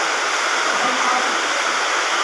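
Steady rain pours onto the corrugated metal roof and flashing of a newly built house, a dense, even hiss that holds without a break and is heard alone.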